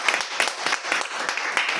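Applause from a Toastmasters meeting audience, a small group clapping steadily in a brief, dense burst with no voices over it.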